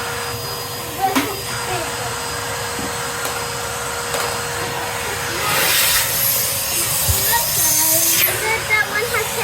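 A Henry Hoover vacuum cleaner runs with a steady, loud whirring hiss for the whole stretch, with brief scraping and rubbing bumps as it picks up debris and a swell in intensity partway through.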